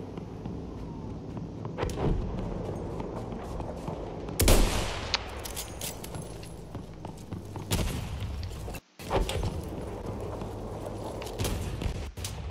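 Sniper rifle shots and explosions in the Battlefield video game crack out irregularly, with a sharp loud blast and scattered distant gunfire over ambient battle noise.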